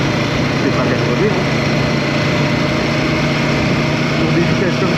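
A Royal Enfield Guerrilla 450 single-cylinder motorcycle is ridden at speed through the city. Its engine drones close and loud, with steady wind rush and no letup.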